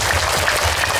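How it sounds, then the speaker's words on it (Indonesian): Applause from the crowd at a religious gathering in Tarakan for the police chief, brief and fairly loud, a busy mass of clapping with low rumble beneath and no talk. "Makanya berikan tepuk tangan buat Pak Kapolres"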